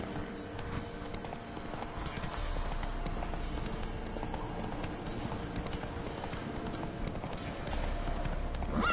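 Roach the horse gallops in a PS4 video game, a steady clip-clop of hooves running throughout with a faint whinny, game music and ambience underneath.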